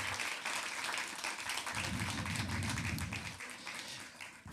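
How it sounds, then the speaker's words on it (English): An audience at the Afrikadag closing ceremony applauds a panel, a steady wash of many hands clapping that swells in the middle and drops away near the end. "Again, a huge applause for the panel,"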